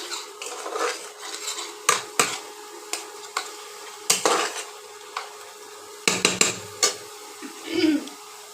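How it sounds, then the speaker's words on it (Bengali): Metal spatula clinks and scrapes against a pan as spice paste with cumin powder is stir-fried for a Bengali potato biryani, irregular close knocks over a faint sizzle, no talking. "এবার মশলাটাকে কষাবো"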